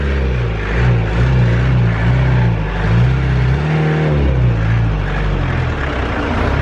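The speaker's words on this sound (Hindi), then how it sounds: "गाइस जो नेक्स्ट चीज़ है वो आप लोगों ने गाड़ी की आवाज़ में आपको अच्छी तरीके से रेव करके सुना देता हूँ" A 1988 Mahindra Jeep engine revs close up, its low throbbing idle rising in repeated throttle blips and swells, then dropping back, loud and alone without talk.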